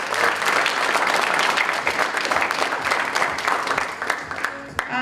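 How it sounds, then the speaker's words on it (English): A theater audience applauds at a school production of Clockwork, giving loud, dense, sustained clapping from a large crowd that thins out and tapers off near the end. "Let's give him a round of applause"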